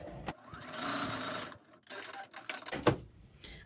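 Sewing machine quilting a zipper pouch, stitching close by in a steady run, then pausing and restarting in short uneven bursts with small clicks and handling noises.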